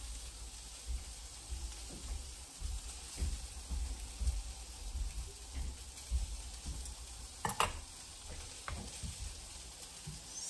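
Food frying in a hot pan, a steady soft sizzle with faint crackles and occasional clatter of utensils, close and fairly quiet, no talking.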